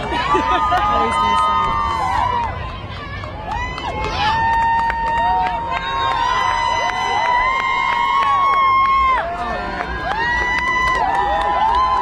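A parade crowd cheers and shouts continuously with whistles and squeals rising over a steady roar, loud and close throughout, while someone speaks nearby.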